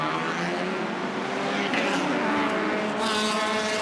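Race cars roar off the start of a Malaysia Championship Series circuit race, a loud dense engine wall that stays steady and close throughout, with a brighter surge near the end as the pack accelerates.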